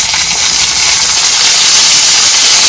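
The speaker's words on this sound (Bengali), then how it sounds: "এর মধ্যে আস্তে আস্তে আমি সব রকম সবজি দিচ্ছি।" Bitter gourd frying in a pan as eggplant, pumpkin, pointed gourd and potato are added, giving a loud, steady, continuous sizzle and hiss throughout with no talk.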